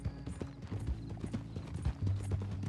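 Horse hooves clip-clop steadily at a walking pace in Red Dead Redemption 2 as a bound rider is taken to Saint Denis, a close, rhythmic clatter over a low background of music.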